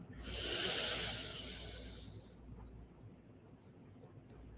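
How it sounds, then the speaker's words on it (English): One slow, deep inhale during a guided meditation: a long, airy rush of breath that swells, then fades over about two seconds, followed by quiet room tone and a faint click. "Breathing in"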